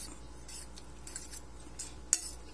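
Seasoned ingredients with oyster sauce, pepper and salt being stirred in a bowl with a utensil, giving faint soft scraping and light clinks, with a sharper metallic tap near the end.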